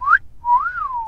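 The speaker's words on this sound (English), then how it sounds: "I would have just whistled at him." A single person whistles outdoors in the woods, a short rising note followed by a longer gliding tone that swells and falls, clear and close with no talking.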